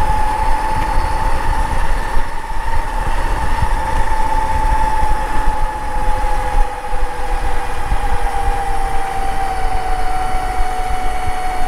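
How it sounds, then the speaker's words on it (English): A steady high electric motor whine from an upgraded 48-volt Super Turbo 1000 Elite scooter at top speed, pitch slowly drifting over constant rumbling road and wind noise, close and continuous throughout. "I'm hoping the scooter isn't too loud for you guys"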